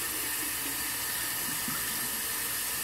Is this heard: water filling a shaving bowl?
yes